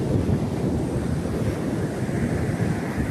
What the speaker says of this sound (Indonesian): Ombaknya gede banget sumpah.